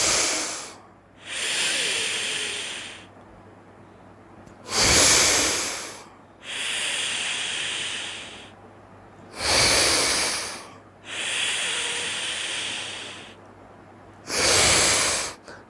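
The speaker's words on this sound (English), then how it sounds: "Tightly close the right nadi. Inhale, hold it few seconds." Slow, deliberate nasal inhalations through the left nostril with the right one held shut, a yogic sun-channel breathing practice; five long hissing breaths in, each several seconds, separated by quiet pauses, close and clear.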